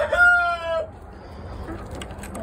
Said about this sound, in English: my naughty chickens